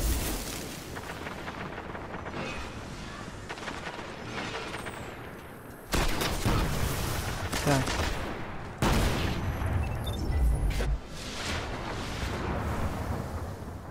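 Repeated shotgun blasts and gunfire crack through a video game match, dense rapid bursts with louder jolts partway through, over a constant busy backdrop.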